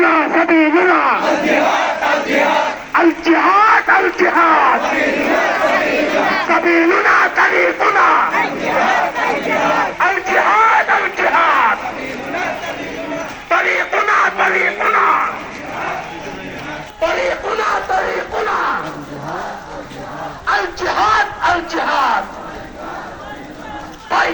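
Loud, dense crowd chanting the Nara-e Takbir Allahu Akbar slogan, many voices shouting together in rhythmic bursts that continue almost without pause at a pro-Palestine gathering.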